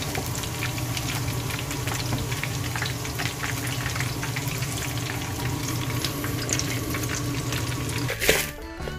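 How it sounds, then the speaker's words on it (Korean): King black tiger shrimp deep-frying in oil in a deep pot, a steady dense sizzle and crackle running throughout, with a brief clatter near the end. "이제 킹 블랙타이거 쉬림프를 튀길 차례인데요."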